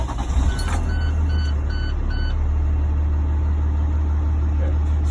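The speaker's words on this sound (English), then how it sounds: "And so now I'm going to do is start the bus up." A school bus diesel engine cranks and catches, then settles into a loud, steady low idle. A few short dashboard warning beeps sound during the first couple of seconds.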